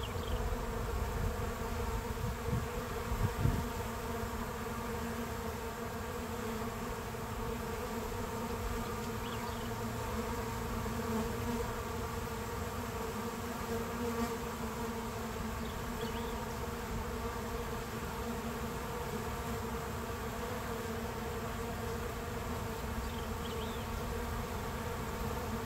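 Honey bees buzz steadily around a hive frame of brood taken from a strong colony, a dense continuous drone with fanning bees, close and even throughout with no talk.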